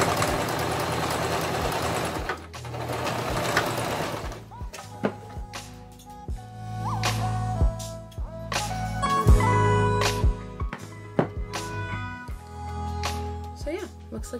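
A sewing machine stitches a seam on small doll jeans in short bursts of rapid mechanical whirring, separated by pauses, handling noises and clicks, with a person talking at the start.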